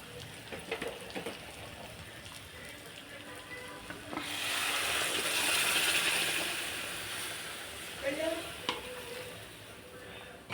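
Sizzling from a pan of brinjal frying in oil, quiet at first, then swelling into a louder, steady hiss midway before easing off with a few scrapes.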